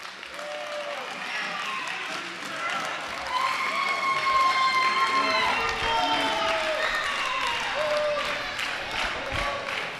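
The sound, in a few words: wrestling crowd cheering after a pin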